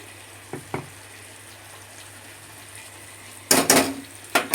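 Chire potol curry being stirred in a pan just after cumin powder goes in: a few soft scrapes early on, then louder bursts of utensil scraping and sizzle near the end over a low steady hiss.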